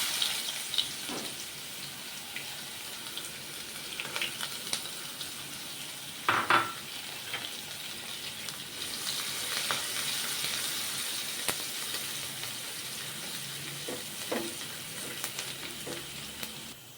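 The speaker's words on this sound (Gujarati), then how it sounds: "સૌપ્રથમ પ્રથમ જીરું અને હિંગ એડ કરશું બે સૂકા લાલ મરચાં અને તજપત્તા એડ કરશું ત્યારબાદ આપણે ડુંગળી એડ કરશું" Cumin, asafoetida, two dried red chillies, bay leaves and onion sizzle steadily in hot oil for a dal khichdi tempering, with occasional spoon clinks and stirring scrapes against the pan.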